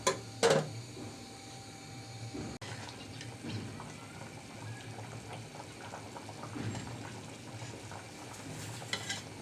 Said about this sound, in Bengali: ভালো করে আমি নাড়াচাড়া করে দিলাম